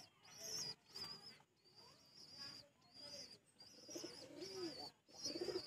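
Tournament racing pigeons coo in soft, repeated throaty phrases close by, with a faint high tone and some background noise.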